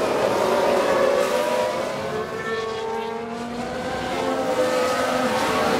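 A Ferrari Formula 1 car races past with a loud, high engine whine that shifts in pitch, blending with other cars during an overtake.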